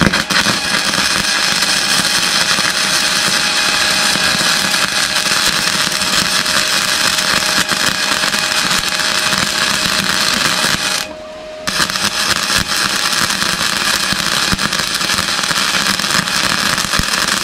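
Arc welding on the suspension of a 2012 Subaru Tribeca during CV joint and lower arm bushing work, a loud continuous crackling hiss running steadily for the whole stretch with one brief pause near the end.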